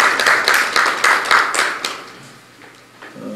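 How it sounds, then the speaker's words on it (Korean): At a panel discussion on satellites, the audience welcomes a professor serving as moderator with a short burst of clapping that pulses for about two seconds and then fades to quiet. "박수로 환영하겠습니다"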